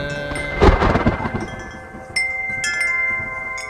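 A thunderstorm with a loud, close thunder crack that rolls and rumbles away over a few seconds, with steady rain hiss underneath and a few sharp higher tones cutting in near the end.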